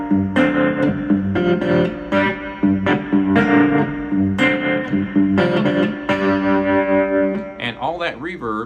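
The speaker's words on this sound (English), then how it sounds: "all that reverb really kind of fills in the sound, and it makes all the notes kind of hover in midair" A cigar box guitar plays syncopated, greasy blues notes, drenched in reverb that lets the strummed notes ring and hover, with a final bent, wavering phrase at the end.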